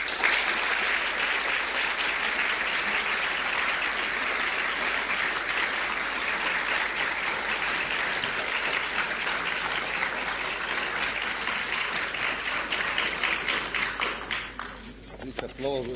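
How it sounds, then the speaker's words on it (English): Sustained, loud applause from a lecture audience fills the hall for the full stretch, dense steady clapping that thins slightly near the end, following a 1975 physics lecture by Paul Dirac on the positron. "This applause shows you the admiration for your masterful lecture"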